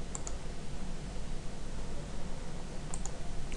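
A few faint computer mouse clicks, two near the start and two near the end, sit over a steady background hiss.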